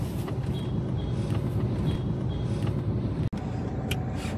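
A car sits in heavy road traffic at Lonavala on the Mumbai to Gangapur road trip, giving a steady, close, low engine and road rumble throughout with a brief dropout near the end.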